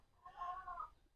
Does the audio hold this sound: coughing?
no